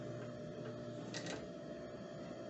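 A straight-stitch sewing machine runs a continuous stitch through fabric for a children's romper, giving a steady, dense mechanical whir close by with no talking.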